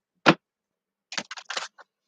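Tarot cards being shuffled at close range: one quick riffling burst, a pause, then a tight cluster of several short papery bursts, with no talk.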